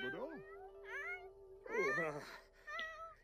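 A pet cat meows in The Sims 4 life-simulation game, several drawn-out rising and falling calls spread across a few seconds, close and clear, with a steady hum underneath and a voice talking between the meows.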